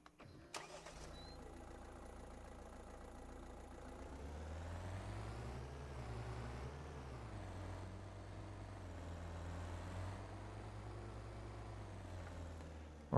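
A car engine in Farming Simulator 25 turns over and starts, then revs and settles into a steady mid-pitched drone while driving, with rising and falling engine tones, close and continuous.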